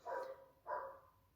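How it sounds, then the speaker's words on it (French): A dog in the street outside gives two short barks, faint and distant, heard through a quiet room. "C'est juste un chien dans la rue, je ne sais pas si vous l'entendez"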